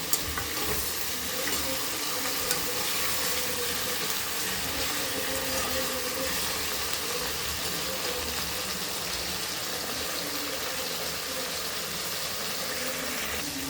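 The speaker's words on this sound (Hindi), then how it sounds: "फिर हमें इसे चलाते हुए पकाना है।" Potato and paneer curry frying in a pan while it is stirred. A loud, steady sizzle runs throughout at close range, with faint scraping of the stirring spoon underneath and no speech.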